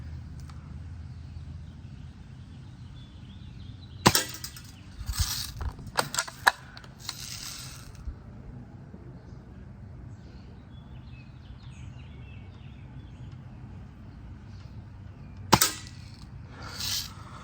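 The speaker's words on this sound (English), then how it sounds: "I can hear the mechanical part of it as I'm slowly releasing the trigger" Sharp, loud cracks of a Daisy 86/77 Safari air rifle firing, a cluster of several close shots followed by one more later, with faint mechanical trigger clicks over quiet background.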